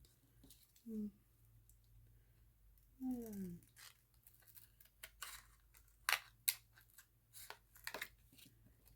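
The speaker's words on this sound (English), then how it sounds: "Oops, that's a pretty big piece. Let me just cut it there." Scissors make a few small snips through a piece of material for a faux shell craft, quiet and close, with brief voiced sounds before them.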